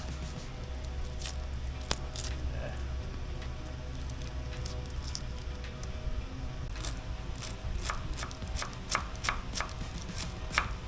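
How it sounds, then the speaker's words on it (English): Garlic cloves are smashed on a cutting board to loosen their peels during home fried rice prep, a series of sharp, close knocks and thuds scattered irregularly over a low background hum, with no voices. "Easy way to peel garlic. Smash it"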